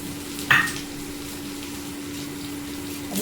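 Chopped onion and red chili fry in hot oil for saag, giving a steady, close sizzle with a brief clatter near the start and no talking.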